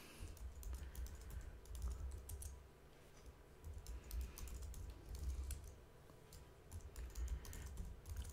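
Quiet, steady typing on a computer keyboard during a Linux database setup, irregular soft key clicks running continuously with faint low background hum and no voice.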